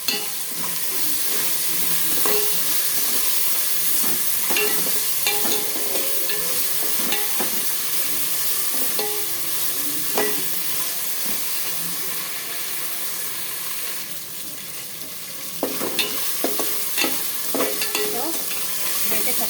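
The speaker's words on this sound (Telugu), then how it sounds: "అలాగే పుదీనా కూడా వేస్తున్నానండి అలాగే కొత్తిమీర కూడా వేస్తున్నాను సో వీటన్నిటినీ కూడా ఆయిల్లో వేయించేద్దాం" Mint and coriander fry in hot oil for coconut rice, a long, steady, hissing sizzle up close, punctuated by frequent stirring clicks and spatula scrapes.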